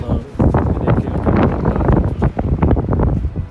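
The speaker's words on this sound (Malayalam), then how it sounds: "പുറത്തേക്ക് ഇറങ്ങിക്കഴിഞ്ഞ കാറ്റ് തുടങ്ങി" Strong wind outdoors in Ushuaia, near a harbour with ships, buffets the microphone in a loud, continuous rumbling roar with uneven gusts and no talking.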